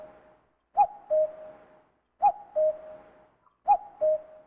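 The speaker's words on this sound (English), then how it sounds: "there's a man playing a cuckoo sound effect somewhere nearby" Cuckoo call from the Cuckoo Forest in Steambot Chronicles, a video game: three clear two-note calls, each a sharp high first note followed by a lower held one, evenly spaced with short silences between.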